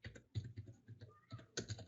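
Keys on a computer keyboard are tapped in short irregular bursts of clicks, close and clear, with brief pauses between strokes and no talking.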